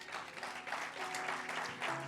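A church congregation applauds during a French-language sermon by a pastor, a dense, steady wash of many hands clapping that fills the whole moment at an even, moderately loud level.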